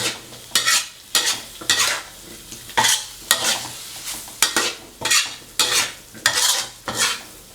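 Pumpkin stir-fries with pork, garlic, chili and moringa leaves, with loud, rhythmic spatula scrapes against the pan roughly every half second over a continuous sizzle, heard up close with no voices.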